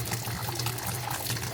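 Water rushes steadily from the faucet of a Suplaud tankless reverse osmosis system being flushed after a new filter is fitted, a constant close hiss and splash with no break.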